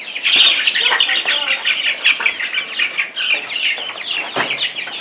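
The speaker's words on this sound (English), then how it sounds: "Okay, we're moving the chicks from in here to outside." Chicks and chickens cluck and cheep continuously and close by, with rustling and wing flaps mixed in, as the chicks are moved from indoors to outside at breakfast time.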